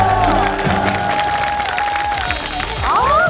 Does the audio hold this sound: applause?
yes